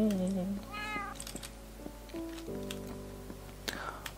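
A cat in the Minecraft video game meows a few times, close and clear, with high gliding cries over steady background game tones and soft voice-like sounds.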